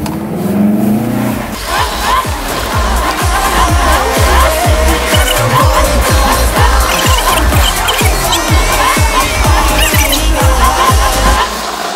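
A loud race car engine revs hard and continuously with tire noise, circling a circular ice track at speed, close to the listener.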